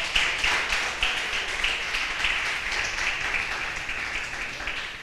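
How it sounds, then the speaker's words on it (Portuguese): A church congregation applauds together in a steady, dense wash of clapping that holds for the whole stretch at an even, fairly loud level with no voices on top. "Aplauda o Senhor mais uma vez."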